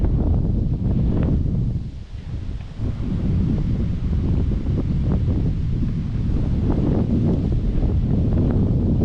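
Strong wind buffets the microphone at a reservoir with low water, a steady loud rush of gusts and rumble that dips briefly, with faint rustling throughout.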